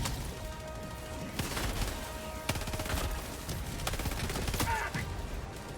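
Gunfire in the video game Helldivers fighting robots: rapid bursts and single shots crackle over a dense, noisy battle backdrop with occasional heavier impacts, loud and continuous throughout.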